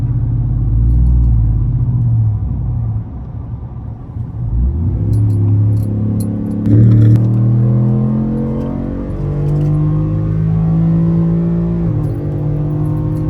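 A Ford F-150 pickup truck drives off-road, its engine rumbling low and close, with revs rising and falling in several surges and a brief clatter partway through.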